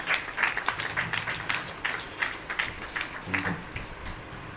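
An audience at an Indian anti-drug awareness event claps in a quiet, uneven patter of many hands. The applause is fairly faint and distant, with a voice briefly heard.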